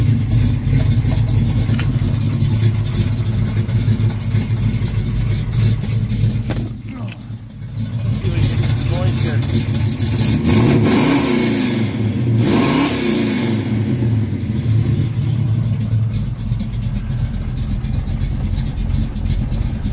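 A rebuilt 351 V8 engine in a 1970 Ford Mustang Mach 1 rumbles close and loud, briefly dropping before revving up twice in quick surges, then settling back to a deep steady idle.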